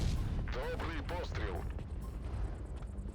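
A heavy tank cannon blast from a Type 71 in World of Tanks Blitz booms near the start beneath a voice, followed by lingering rumble and mechanical noise.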